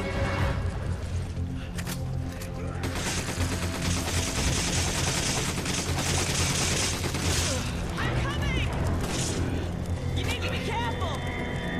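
Machine gun fire in the video game Resident Evil 5, a dense sustained burst of rapid shots and impacts with game effects mixed in, loud, with people talking over it.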